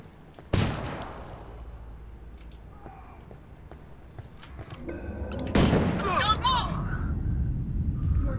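A flashbang grenade goes off in the shooter game Ghost Recon Wildlands, with two sharp, loud blasts several seconds apart, each fading into a ringing tail over steady game ambience.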